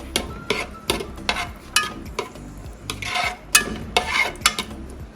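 Dry fruits fry in a pan for gulatti, with steady sizzling and repeated sharp clinks and scrapes of a spoon stirring against the metal.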